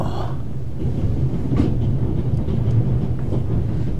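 A train rumbles along in the adventure game The Raven, a loud, low, continuous rolling noise with faint rhythmic knocks from the carriages and no speech.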